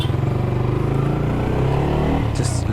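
Modified Yamaha R15 V3 motorcycle engine running with a loud, steady, throaty exhaust rumble held close by throughout, with a rougher rise near the end.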